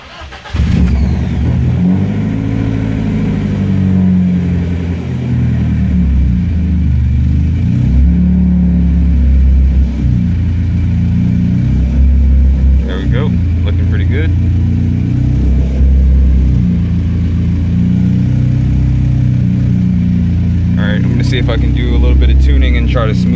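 A BMW E30 with an M42 engine and a newly fitted wideband sensor starts up and runs, its loud, steady mid-pitched idle filling the clip, with a few revs rising near the end.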